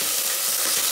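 Ginger garlic paste frying in a pan for egg biryani, a steady close hiss of sizzling oil throughout with faint stirring, no talk.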